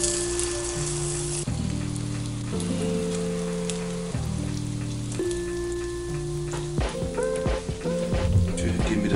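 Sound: thin chorizo slices sizzling in a frying pan

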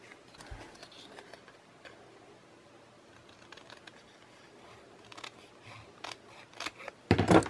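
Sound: cutting paper belly band pieces in half

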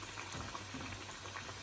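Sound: namak pare dough frying in oil

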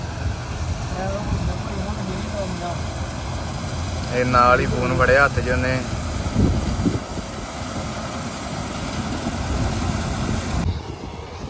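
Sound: combine harvester running while harvesting wheat

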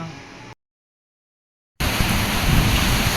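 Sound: rain and wind

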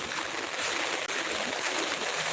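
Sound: flooded river water flowing

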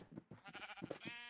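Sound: glow sheep bleating in video game Minecraft

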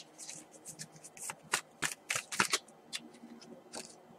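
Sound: cutting and shuffling a tarot card deck

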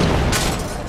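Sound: explosions in the video game Risen 3

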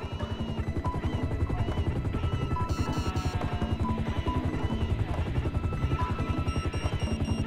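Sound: police helicopter in GTA 5 video game

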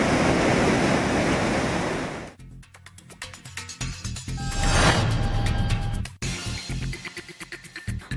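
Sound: water gushing at Thirparappu waterfall

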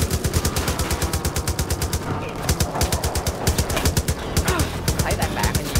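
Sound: gunfire in a video game

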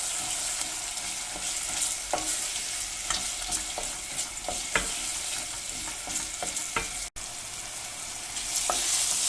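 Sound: tomato paste being sautéed and stirred with other ingredients

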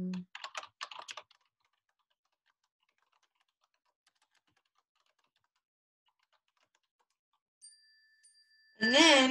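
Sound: typing on a computer keyboard

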